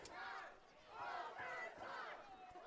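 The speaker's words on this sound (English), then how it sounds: "The crowd is chanting for overtime." A high school hockey crowd at a Duchesne vs St Dominic game chants loudly and continuously for overtime, a dense wall of many voices rising and falling in rhythmic waves.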